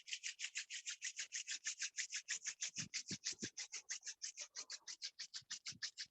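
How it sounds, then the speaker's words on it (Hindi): Two hands rub briskly together during a pranayama breathing and meditation session, producing a fast, even series of soft rasping strokes, close and alone, with a few faint low thumps underneath. "हाँ, अब हाथों को रब करो"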